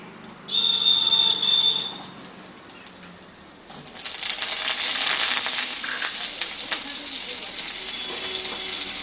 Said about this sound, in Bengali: এখন আমি প্রথমেই আলুগুলোকে দিয়ে দিচ্ছি এর মধ্যে।